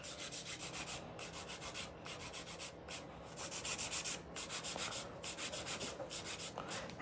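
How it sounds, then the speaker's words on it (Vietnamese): Acrylic nails on a long coffin-shaped set are filed with a hand nail file, a steady rhythmic rasping of quick back-and-forth strokes, close and continuous, with no talking. "Anh chị nhìn em giũa vậy thôi chứ em nhẹ tay lắm."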